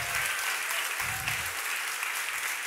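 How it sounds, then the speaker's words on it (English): Audience applause for women sailors of the Whitbread and Volvo Ocean Race, a steady dense roar of many hands clapping at a celebration event, with a faint voice underneath at times. "give them all a huge round of applause"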